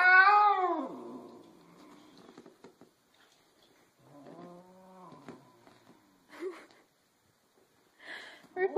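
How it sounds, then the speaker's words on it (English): A cat gives a loud, drawn-out meow with a dog sitting on top of it. Softer moaning cries follow at intervals amid quiet stretches, with a person speaking briefly. "Why are you sitting on the cat?"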